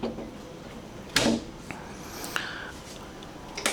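Drawers sliding open and shut in the galley of a 19 m steel trawler yacht, a few separate wooden thumps and slides with quiet pauses between them, close and fairly soft.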